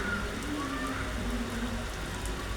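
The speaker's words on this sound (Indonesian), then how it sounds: "Jarang-jarang hujan" Steady rain falls in Egypt, a dense, continuous hiss of drops on surfaces that holds at an even level throughout, with no voices.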